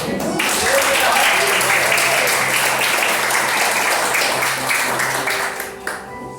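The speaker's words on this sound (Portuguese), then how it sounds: "Você pode aplaudir a Jesus?" A church congregation at a prayer house in Aracaju claps together in dense, sustained applause, steady and fairly loud for about six seconds, with held keyboard tones ringing underneath before it thins at the end.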